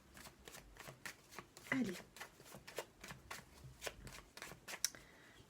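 Tarot cards shuffled by hand in a series of quick crisp riffles and snaps, close and fairly quiet, with someone speaking French over the shuffling.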